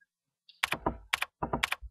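Typing a file name on a computer keyboard while saving a Windows 7 file. Clustered key clicks and thunks come in three quick bursts, close and distinct, with no speech.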